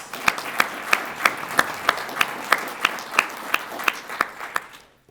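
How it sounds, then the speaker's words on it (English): A crowd at a military change of command ceremony applauds, with loud, evenly spaced claps keeping a steady rhythm above the general clapping before it quickly fades out. "So let's give Tina a round of applause for her service."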